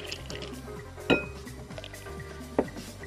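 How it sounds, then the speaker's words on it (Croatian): Ice dropped into a bowl: two sharp clinks about a second and a half apart stand out over a steady low background, with faint watery rattling between them. "Zatim je potrebno da u jednu posudu dodate led,"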